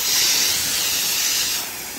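Pressure-washing hose spraying water over plants and a porch during a house wash, a steady loud hiss that runs throughout and eases slightly near the end.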